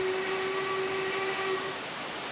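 Safety valve blowing off on the Coronation Class steam locomotive Duchess of Hamilton in Train Simulator 2020, a loud continuous roaring hiss with a steady tonal whine that fades slightly toward the end, heard alone.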